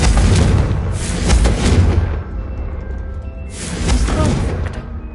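Confringo fire spell blasts in Hogwarts Legacy on PS5, two heavy booming bursts with a rumbling tail, loud and close, separated by a quieter lull, with the spell name spoken briefly.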